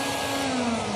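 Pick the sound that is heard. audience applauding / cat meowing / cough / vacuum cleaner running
vacuum cleaner running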